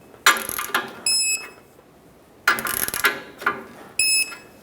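Castle nut being tightened on a ball joint of a Ford E-350, heard as two bursts of rapid ratchet clicking, each followed by a short high whirring tone, close and loud with quiet gaps between.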